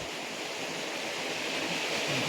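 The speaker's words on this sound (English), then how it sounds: "The waterfall is amazing." A waterfall in a large forest near a village rushes with a steady, dense roar of falling water that never breaks, heard up close with no voices over it.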